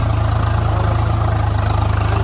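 A tractor engine idles steadily in a field at dusk, a loud, close, low rhythmic throb with fast regular pulsing that holds evenly throughout, no talking.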